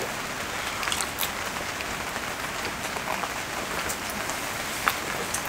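Steady rain pattering on an outdoor surface during a rainy meal of ramen and makgeolli, a dense even hiss with scattered louder drips and no talking.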